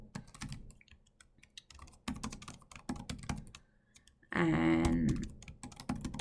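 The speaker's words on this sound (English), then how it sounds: "So let me type in some name here," Fingers tapping a computer keyboard while entering a name into Python code, with irregular clusters of crisp keystroke clicks close up, plus a brief steady tonal sound partway through.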